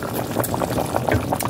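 Soup of pork and purple onion boiling in a pot: close, lively bubbling with irregular pops and gurgles, steady and moderately loud.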